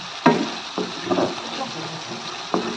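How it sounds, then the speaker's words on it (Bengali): Spice masala of turmeric, chilli powder and salt fries in oil for a Bangladeshi fish malaikari curry, giving a steady low sizzle with a few sharp stirring scrapes and knocks, close and moderately loud, without talk. "এখন ভালো করে মিশিয়ে মশলাটাকে আমি ভালো করে কষিয়ে নিব।"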